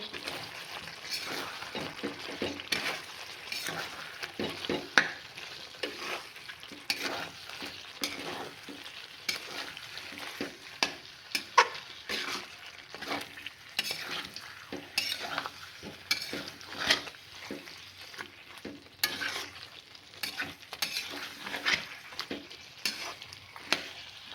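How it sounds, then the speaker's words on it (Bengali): Fried onions are stirred into chicken korma in a pan, a low sizzle under repeated scraping strokes of a spoon against metal, fairly quiet and close, with occasional clinks throughout. "এবারে ভেজে রাখা বেরেস্তাটাকে আমি এখানে অ্যাড করে দিচ্ছি, তারপরে মিক্স করে নেব।"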